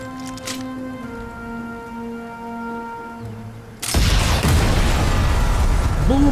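An explosion in the Sniper Elite 5 video game bursts in suddenly, loud and broadband, after a quieter stretch of steady tonal game sound, then rumbles on.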